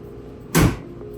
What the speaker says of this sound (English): And then I'm going to close my door.